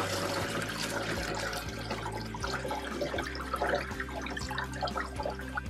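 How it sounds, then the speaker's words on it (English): Turmeric dye liquid pours and trickles through cheesecloth into a colander, a continuous splashing, dripping wash of water over a low background hum, with no talking. "You want to control the turmeric as it goes in so it doesn't pull that cheesecloth down over the colander."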